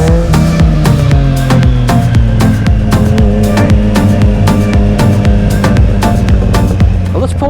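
A 2020 Triumph Street Triple 765 RS motorcycle with an aftermarket exhaust rumbles steadily while riding, punctuated by a rapid series of sharp, loud exhaust pops and crackles.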